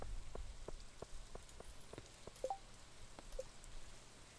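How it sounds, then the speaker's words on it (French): Rain falls in the farming video game Stardew Valley, a soft, faint patter of scattered drops ticking at irregular intervals over a quiet hiss. "Quel temps de merde quand même. Les jours-ci, il pleut."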